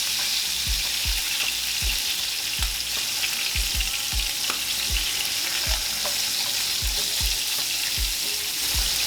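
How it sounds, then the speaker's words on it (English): Hamburger patties browning in a frying pan give a loud, constant sizzle, with occasional low thuds and knocks from the pan or spatula scattered through it, and no talking. "we just kind of want to get these to brown up a little bit, soak up some of that flavor in the bottom of this pan"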